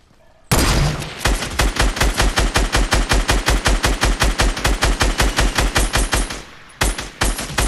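Rapid automatic fire from a SCAR rifle in a video game: a long, steady stream of sharp, loud shots at an even rhythm, starting abruptly and running for several seconds with a brief dip near the end.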